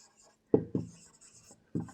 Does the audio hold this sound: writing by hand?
yes